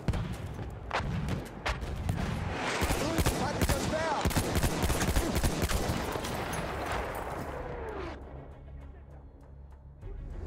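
Dense World War I battle din in Battlefield 1: rapid gunfire crackles and booming artillery barrage impacts pile up loudly, then thin out toward the end, with brief voices mixed in.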